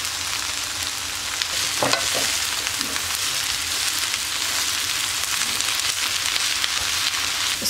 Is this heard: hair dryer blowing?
no